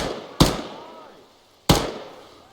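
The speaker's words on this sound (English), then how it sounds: "Hear the gunfire." Gunfire in the Arma 3 military video game: two sharp, loud shots about a second apart, each with a long echoing decay, heard alone.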